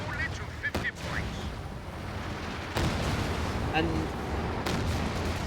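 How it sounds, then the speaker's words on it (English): Artillery fire from the Company of Heroes 2 World War II strategy game, a multiplayer replay, thuds and cracks in a few sharp, distant blasts over a low battlefield rumble, with a voice briefly audible. "Oh, here comes the artillery."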